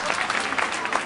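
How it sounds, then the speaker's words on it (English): Audience applause fills a hall at a New York Law School Law Day keynote, a steady dense patter of many hands clapping throughout, fairly loud and continuous with a faint crowd murmur. "You're going to wait till the applause to die down."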